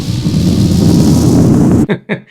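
A pitched-down spaceship takeoff effect: a dense, low rumbling roar with a hazy wash on top, sustained and loud, then it cuts off abruptly into a couple of short echoing tails.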